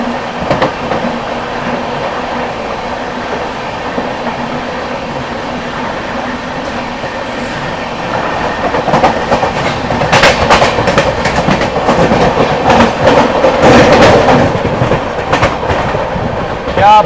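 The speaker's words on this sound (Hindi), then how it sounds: "और सामने से भी गाड़ी आ रही है।" Indian Railways train approaching on the opposite track, a loud rolling rumble with rhythmic wheel clatter that swells and grows closer over the second half, heard from a train standing nearby.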